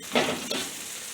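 Stir-fried noodles (chow mein) sizzling in a hot pan, a short steady hiss with a brief louder burst of tossing near the start, close and alone with no talk.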